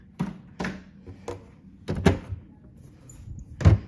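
A makeup storage drawer is pulled open, giving a few close wooden thunks and knocks in a quiet room, with a sharper bump near the end.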